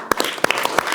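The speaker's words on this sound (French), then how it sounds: "on peut l'applaudir" Studio audience on a French talk show claps briefly, a handful of separate, crisp handclaps spaced out over a single second.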